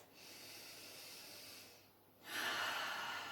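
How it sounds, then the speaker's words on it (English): Steady, slow breathing during a yoga exercise: a long airy exhale, a brief pause, then a stronger, louder breath of air, close to the microphone with no talking. "Take a breath."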